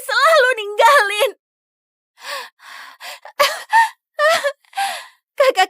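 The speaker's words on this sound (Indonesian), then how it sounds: "aku susah napas" A young girl gasps and struggles for breath in short, ragged, wheezing bursts between pauses, some drawn-out and moaning, loud and close with no other sound around.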